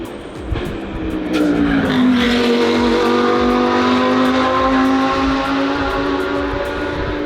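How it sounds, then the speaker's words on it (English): Loud race cars roar past on a track, engines rising and falling in pitch as they pass nearby, with a continuous wash of engine noise and tire sound. "the cars are so damn loud"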